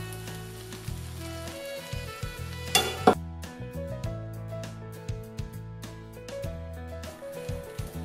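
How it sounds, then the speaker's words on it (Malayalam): Spiced beef mixture for cutlets hits a hot pan and fries, a soft sizzle with clinks and a brief scrape of a utensil against the pan, partly under background music. "ഇനി ഇതിലേക്ക് നമ്മൾ ആ മിക്സ് ചെയ്ത് വെച്ചിരിക്കുന്ന ബീഫ് ഇട്ട് കൊടുക്കാം"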